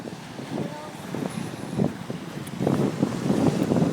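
Gusty wind buffets the microphone in rough bursts, with sea waves lapping nearby on a January day and a voice faintly under the rumble.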